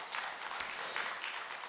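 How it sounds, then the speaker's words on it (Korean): A church congregation breaks into a brief burst of dense applause, many hands clapping together, heard fairly quietly and without speech. "박수 한번 칩시다."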